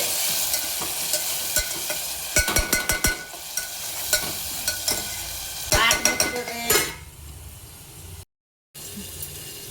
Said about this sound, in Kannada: ಚಮಚೆಲೆ ಗರ ಗರ ತಿರುಗ್ರಿ